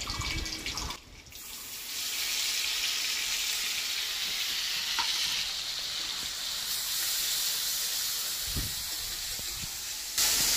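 Ground onion and green chili paste dropped into hot oil for a pointed gourd and prawn dish, bursting into a loud, steady sizzling hiss close by, with a few stirring knocks.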